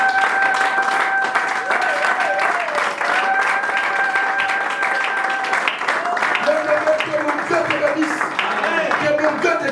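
A church congregation claps and cheers loudly and continuously, dense applause filling the space while a voice carries on over it.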